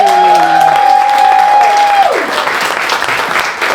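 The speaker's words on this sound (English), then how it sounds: "Make some noise for Stephen Brown" Loud applause and cheering from a comedy club crowd in Rochester, starting under a fading sustained tone and then filling the space as dense clapping.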